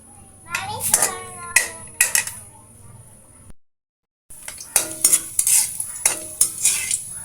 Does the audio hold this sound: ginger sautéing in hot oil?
yes